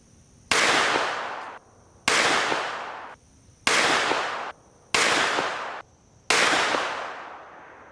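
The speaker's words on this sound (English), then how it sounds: "here is my final 5-round group fired at 25 yards, 124 grain gold dot after that 4th drop test" Five evenly spaced gunshots from a Staccato XL pistol firing 124 grain Gold Dot rounds at 25 yards, each a loud, close report with a long ringing decay.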